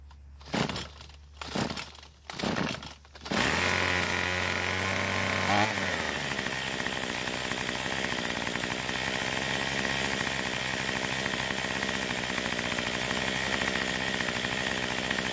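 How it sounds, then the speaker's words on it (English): Troybilt string trimmer with a carburetor fault being started: a few short pull-start bursts, then the small two-stroke engine catches and runs steadily and loudly up close, holding a continuous buzzing drone to the end. "let's start the engine and make sure it still runs"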